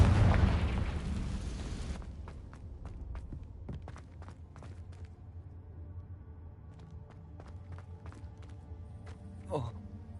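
Confringo blasting spell explosion in Hogwarts Legacy: a loud burst that rumbles and fades over two seconds, followed by scattered sharp clicks and footsteps, with a brief voice near the end.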